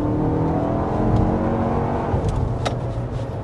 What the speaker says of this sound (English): What you might not like as much as the sound of the engine, perhaps, because it is a 4-cylinder.